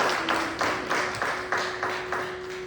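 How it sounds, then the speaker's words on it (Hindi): Audience clapping at a Hindi Diwas gathering comes in a slow, even rhythm of about nine distinct beats, moderately close, with a steady faint tone running underneath. "मैं चाहूँगा एक बार फिर से इनके लिए तालियां बजाई जाएं"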